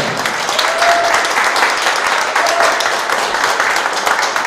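Steady, full applause from an audience welcoming guests at the opening of a traditional wood-carving master exhibition, a dense sustained roar of many clapping hands at close range.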